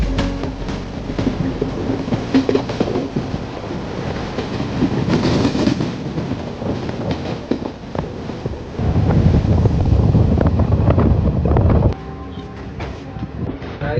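A passenger train running after leaving Malda Town station, heard from inside as a steady rumbling roar with wind buffeting and a louder surge of rattling near the end.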